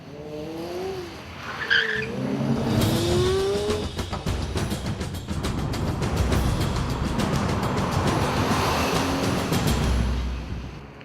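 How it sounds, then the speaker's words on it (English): A Lamborghini Murcielago LP640 slides on an icy road as its rear end spins around. Its tires squeal and scrub loudly and its engine roars and revs, sustained and close for several seconds. "Get on the throttle too early, especially over these icy roads, and the rear just goes spinning around."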